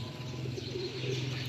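Pigeons of a show bloodline, Teddy type, coo nearby in a low, steady, droning murmur that runs unbroken through the moment, with no voices present.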